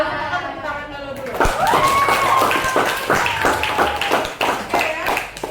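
A classroom group claps hands together in a dense, sustained burst of applause, starting abruptly and continuing loudly throughout, with voices and a whistle-like tone audible over the clapping.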